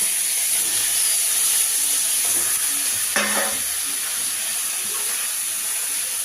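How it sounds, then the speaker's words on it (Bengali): A steady, loud hiss of fish heads frying in hot oil fills the whole stretch, with a brief crackle burst midway. "এবার মাছগুলোকে তেলে ছেড়ে দিলাম। এবার এগুলো ভাজা হবে মাথাগুলোকে।"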